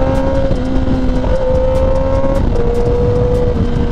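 A Kawasaki Ninja ZX-10R KRT Edition accelerates hard in sport mode using its quick shifter. The loud, close engine drone runs throughout, with its pitch stepping through a few quick gear changes under wind rush, and no talk.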